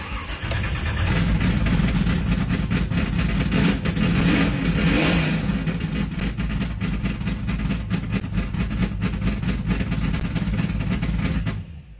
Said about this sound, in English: Finally, started and ran.